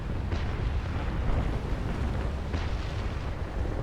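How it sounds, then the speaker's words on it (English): Cannon fire from a small cutter in the Naval Action naval sailing game, a dense rumbling barrage of chain shot booms running steadily throughout with a couple of sharper blasts standing out. "I'm going to try to get off these chain shots before I start turning."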